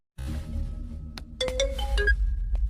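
A phone ringtone sounds during a call in an action-film fight scene spoof, a few short melodic electronic tones over a low rumbling background, moderately loud.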